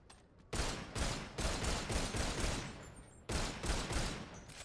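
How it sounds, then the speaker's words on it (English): Bursts of gunfire in Metal Gear Solid Delta: Snake Eater video game, two loud, rapid volleys separated by a short gap, dense and close with no talking. "Maybe shooting it will do it."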